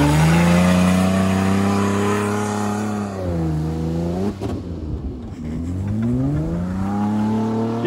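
A Ford Freestyle with all-wheel drive revs hard, its engine note climbing, dipping and rising again as it drives, loud and close throughout with no talking.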